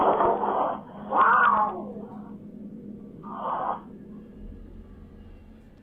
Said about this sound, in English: The cat violently hisses as though it's being attacked, and the other pets become very disturbed as well.